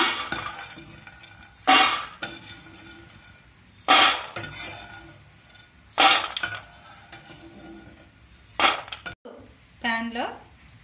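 Fried fox nuts (phool makhana) are scooped out of a pan with a spoon, giving four evenly spaced bursts of scraping and light rattling against metal, close by, with quiet gaps and a brief voice near the end.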